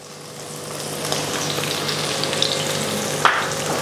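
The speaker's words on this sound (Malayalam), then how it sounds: "ഞാൻ ഒരു 6 വെളുത്തുള്ളി അല്ലി നടുവെ പൊളന്ന് ഫ്രൈ ചെയ്തെടുക്കാനായിട്ട് ഇതിലോട്ട് ഇട്ട് കൊടുക്കുകയാണ്" Split garlic cloves frying with tomatoes in a pan for a grilled tomato chutney give a steady, close, fairly loud sizzle with faint crackles and a couple of small pops throughout.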